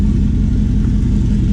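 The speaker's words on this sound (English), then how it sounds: "it's not too loud, the engine" Car engine idling quietly from inside the cabin, a steady low rumble that holds constant without revving, moderately loud and alone.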